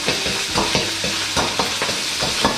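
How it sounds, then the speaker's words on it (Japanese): Minced meat frying over moderate heat in a pan while being broken apart and stirred, with a steady sizzle broken by repeated scraping strokes of the utensil close by, no one talking. "まずミンチいきますね。 強火じゃなくていいですよ。 もうミンチほぐしたいだけです。"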